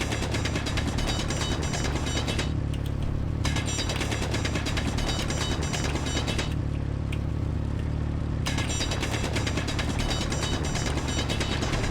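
A grinder cutting through blocks in the video game Space Engineers: a steady, loud mechanical whir and rattle that runs without a break and dips briefly twice, with no talking.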